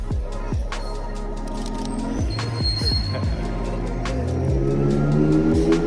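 A McLaren car passes along a city street, a loud continuous engine and road roar with shifting tones, heard amid dense urban traffic noise.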